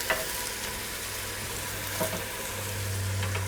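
About three pounds of ground lamb browns in a pan for a Bolognese sauce, giving a steady close sizzle and crackle with a faint low hum underneath and an occasional stir.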